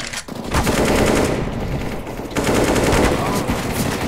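CS:GO gunfire during a match: loud, rapid automatic bursts in two long stretches separated by a brief lull, close and dominant.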